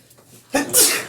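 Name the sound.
sneeze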